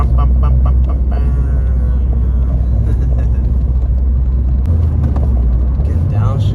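A Honda Civic Si engine rumbles loudly and steadily close by, its pitch shifting as the car is driven through gear changes, with a person talking over the continuous drone.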